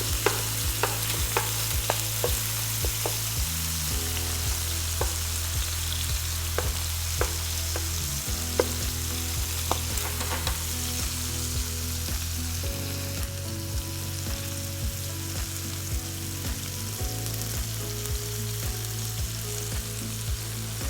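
Beef pieces hit hot oil in a pan for a beef with broccoli stir-fry, giving a steady, continuous sizzle with occasional stirring, heard beneath background music throughout.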